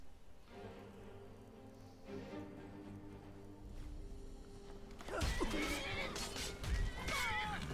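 A loud horse neigh bursts out in Skyrim gameplay after a quieter stretch of background noise, followed by another whinny and some clattering.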